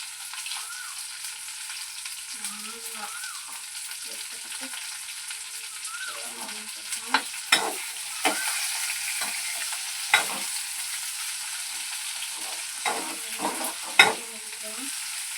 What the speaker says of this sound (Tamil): கிண்ட ஆரம்பிக்கலாம். நல்லா சுத்தமாக வதக்கிக்கலாம்.